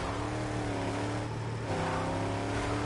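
Video-game car racing in Mad Max: a steady, loud engine drone with layered harmonic whine holds throughout, dipping briefly mid-way before the revving resumes, with no speech.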